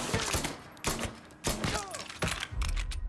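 Gunfire in the video game Mafia III: four or five sharp, loud shots at irregular intervals, each with a short ringing tail, over a low background rumble.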